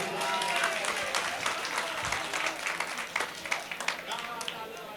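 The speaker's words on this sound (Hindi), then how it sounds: "जोरदार ताली बजाइए, फिर बजाता हूं।" Audience at a mushaira poetry recital applauding loudly, dense steady clapping throughout with a few sharper bursts near the end.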